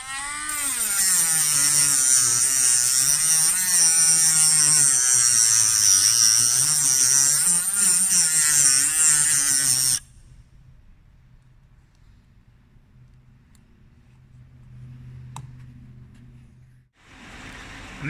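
A Dremel rotary tool with a cutting disc grinds through a shark mesh strap, giving a loud, steady high-pitched whine with a wavering tone that cuts off suddenly partway through, followed by quiet with a faint low hum and light handling noise.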